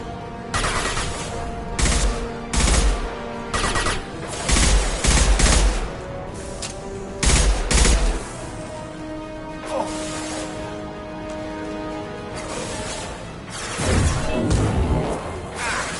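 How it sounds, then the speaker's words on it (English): Repeated loud gunshots and heavy impact blasts in a Mass Effect 2 firefight, coming in uneven bursts with sharp cracks and booming hits, followed by a quieter stretch and another burst near the end. "Firing an impact shot!"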